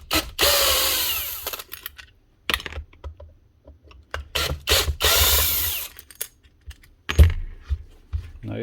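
A power tool spins out screws on a Milwaukee M18 FSX reciprocating Sawzall under repair, with several close, loud whirring ratchet-like bursts separated by pauses and small clicks of handling.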